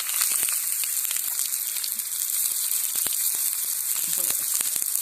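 Thalipeeth flatbread frying in hot oil, a steady loud sizzle with crackling pops throughout, close up and continuous, with only faint background sounds.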